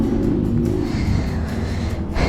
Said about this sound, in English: Now I have to start my bike like this.